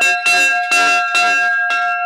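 A 21-kilogram church bell cast with silver is struck five times in a quick, fairly even rhythm, each clang ringing brightly with lingering metallic overtones, close and loud.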